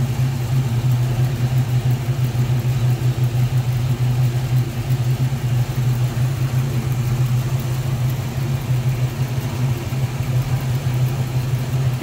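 A 1968 Pontiac Firebird convertible's engine idles steadily, a loud, close, low rumbling drone holding even throughout with no voices over it.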